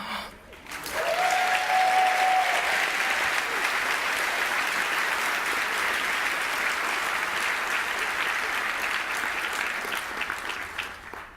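Sustained applause from an audience, steady and fairly loud for several seconds before tapering slightly at the end.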